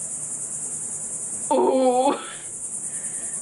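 Cicadas at a seaside spot give off a steady, high-pitched buzz that drones without a break the whole time, and a voice briefly exclaims partway through.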